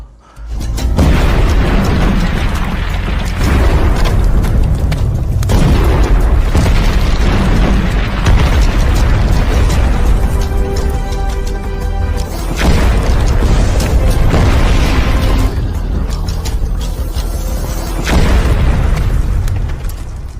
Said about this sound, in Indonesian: Ledakan demi ledakan terdengar di sekitar mereka